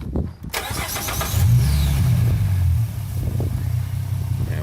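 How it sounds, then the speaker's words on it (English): A 2014 Ford Mustang cranks and fires up after an oil change, the engine catching quickly and settling into a loud, steady idle close by with wind noise over it. "So we're going to start it, run it, then we're going to recheck it."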